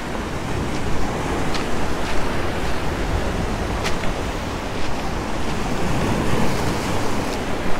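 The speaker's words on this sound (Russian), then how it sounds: "Посмотрите, какой накат идет." Storm surf rolling onto a secret beach near Fiolent, a dense continuous roar of breaking waves close by, heavy with wind buffeting the microphone and no voices.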